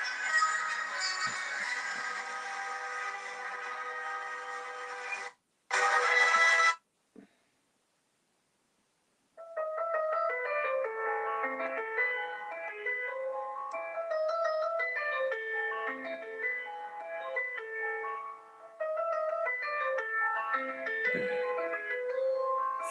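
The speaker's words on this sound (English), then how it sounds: "For Elise on the piano" Für Elise plays as a tinny piano melody from a phone speaker, starting with a burst of noisy sound, cutting to silence for a few seconds, then the thin, bright tune resumes steadily.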